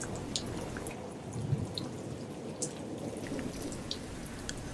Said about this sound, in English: There are few sounds more peaceful than the rain.